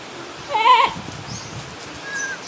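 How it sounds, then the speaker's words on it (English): A goat lets out one short, nasal bleat at moderate distance, followed by quiet outdoor background. "Of course, the goats are always complaining."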